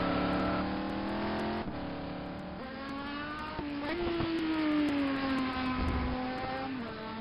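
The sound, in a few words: ETC touring race car cornering on track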